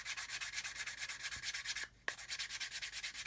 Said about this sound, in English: So we're sanding across the sanding lines we've got from the thicker stick.